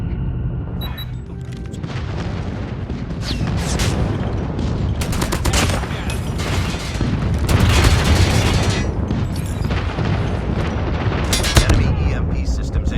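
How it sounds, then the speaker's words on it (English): Airstrike explosions in Call of Duty Mobile boom through dense, continuous gunfire and battle noise for the full stretch, with heavier blasts near the middle and end and game voice callouts mixed in. "Enemy airstrike incoming."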